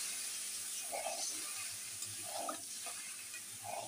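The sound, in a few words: fish curry with eggplant simmering in a pan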